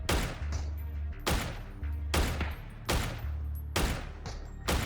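An SVD rifle fires in a DayZ-style shooter game, with four loud, evenly spaced shots ringing out one after another over a low droning background.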